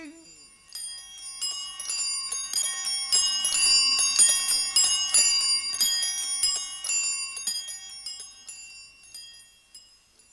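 Many town bells ring together as a radio drama effect, with overlapping chimes that swell in from quiet, hold as a dense ringing peal, then fade away.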